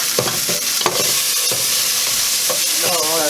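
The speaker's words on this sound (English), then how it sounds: "Spoon to mix this up in." A spoon stirs food in a hot pan with butter, scraping in short repeated strokes over a steady sizzle, close and fairly loud with no talking.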